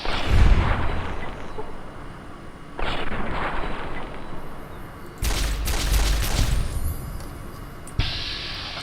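Gunfire in Fallout: New Vegas comes as several loud bursts of shots with booming tails, separated by short pauses.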